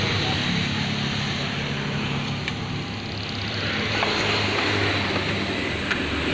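A loud, steady whirring roar of an LG washing machine's spin dryer drum running at high speed, constant throughout with no pauses.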